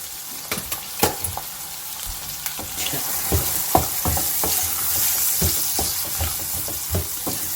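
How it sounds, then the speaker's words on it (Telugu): Onions frying in a pan until nearly brown, with salt added, for aloo lukhmi: a steady close sizzle broken by frequent sharp scrapes and knocks of a spoon stirring, and no voices. "ఫ్రై కానివ్వండి, బ్రౌన్ అయ్యే వరకు ఫ్రై. ఆనియన్స్ ఆల్మోస్ట్ బ్రౌన్ అవుతున్నాయి."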